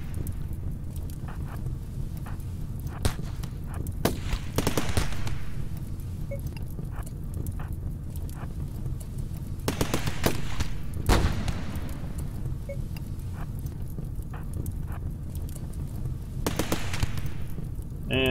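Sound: gunfire from colonists shooting in video game Rimworld

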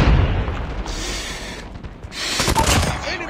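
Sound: predator missile strike explosion in Call of Duty Mobile video game

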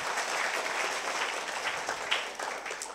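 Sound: audience applause

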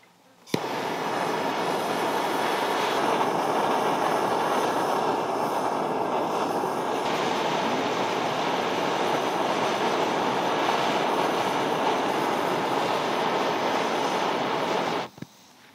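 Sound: MAP gas torch flame heating sand

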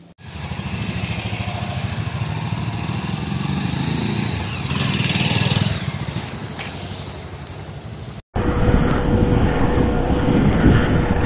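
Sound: Bajaj Pulsar 220 motorcycle riding off

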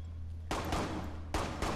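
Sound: gunfire through a wall in the video game Rainbow Six Siege

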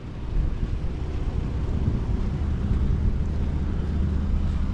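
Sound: 2011 Dodge Nitro 3.7 liter V6 engine running

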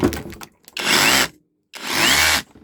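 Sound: battery-powered rotary hammer running

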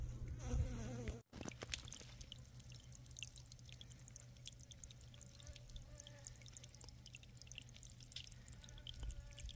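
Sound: honeybees drinking water

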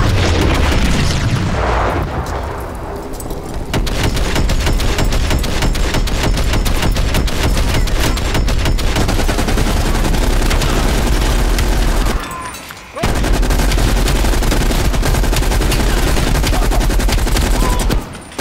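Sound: gunfire from a gun in Call of Duty Black Ops Cold War video game

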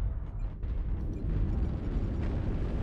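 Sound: artillery strike explosion in a video game

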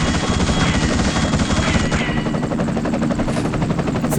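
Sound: helicopter in the video game The Suffering

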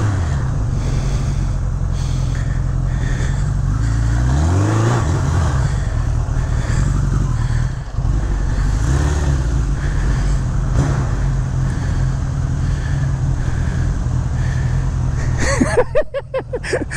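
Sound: 1985 Suzuki GS1150E motorcycle engine revving during burnout

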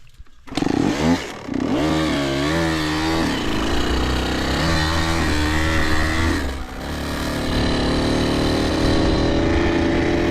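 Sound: dirt bike engine riding

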